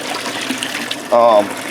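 A short, loud splash of water poured into a container to acclimate fish, heard as one brief gush lasting about a quarter second after a stretch of quiet room noise.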